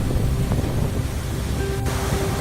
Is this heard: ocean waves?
yes